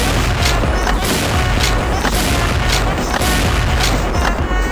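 Dense, continuous rumbling blasts and booms of video game explosions in the shooter Xshot, overlapping one another, loud and close, with crackling bursts and no pause between them.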